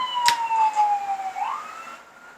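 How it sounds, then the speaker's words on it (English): A wailing siren sweeps slowly down in pitch and then rises again, fading as it moves away, with a brief sharp click near the start. "the sirens went by. This is the fire department."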